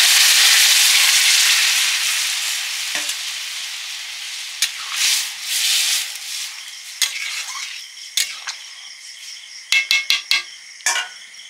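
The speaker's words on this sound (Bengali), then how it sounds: "এবারে আলু মটর সেদ্ধটা ঢেলে দিচ্ছি।" Boiled potatoes and peas for ghugni tip into a hot pan with a loud sizzle that gradually fades, followed by a few sharp clinks and scrapes of a spoon stirring near the end.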